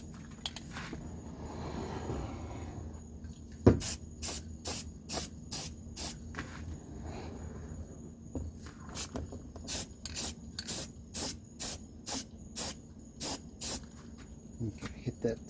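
Aerosol paint sprayed onto a rusty area of a Buick Rainier in a series of about a dozen short, loud hissing bursts, each roughly half a second long. A continuous background hum runs beneath them, with a voice heard near the start.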